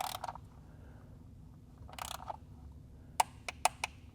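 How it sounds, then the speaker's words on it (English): A torque wrench on an oil filter housing bolt of a BMW B58 engine gives a few soft mechanical clicks, then a quick series of sharp ratchet ticks near the end. It is close and quiet, with no voices. "we're going to start on bolt number 1 here. And we're going to be torquing that to 10 Newton meters."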